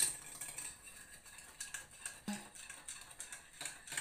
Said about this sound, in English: I'm going to mix to add the sugar into our milk.